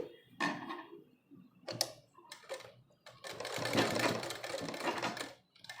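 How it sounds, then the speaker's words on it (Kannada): Sewing machine stitching a blouse dori, heard in short bursts of rapid mechanical clatter, then a longer continuous run of stitching, close and fairly quiet. "ಎರಡರಿಂದ ಮೂರು ಸ್ಟಿಚ್ ನೇರಕ್ಕೆ ಹಾಕಿ"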